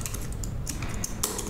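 Fingers type quickly on a computer keyboard during software development work, making a close, continuous run of crisp key clicks with a few louder strikes.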